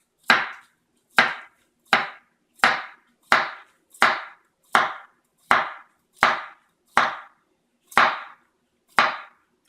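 A knife chops cucumber on a cutting board in twelve sharp, evenly spaced strokes, close and crisp with silence between cuts, no talking.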